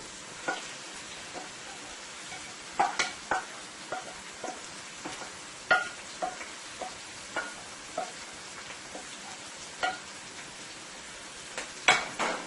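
Seasoning sautés in hot oil in a soup pot, a steady soft sizzle broken by scattered sharp clicks and scrapes of stirring, close and fairly quiet with no talking.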